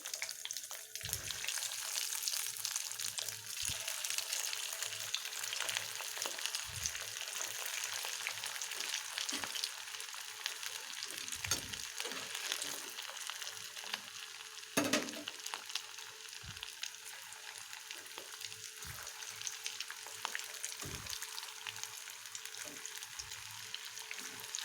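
Cutlet balls frying in hot oil give a steady, fairly faint sizzling hiss with occasional soft pops and knocks, heard close with no talking.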